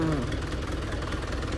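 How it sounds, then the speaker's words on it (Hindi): A tractor engine idling and running roughly, a dense low continuous rumble with uneven knocking pulses, close and steady throughout, a faint voice briefly audible at the start. "क्योंकि ट्रैक्टर का साउंड भी ठीक नहीं आ रहा।"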